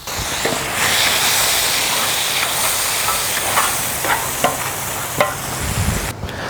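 Butter sizzling and melting on a hot Blackstone griddle for hibachi fried rice, a steady close hiss of frying with occasional scraping ticks and stirring, no one talking.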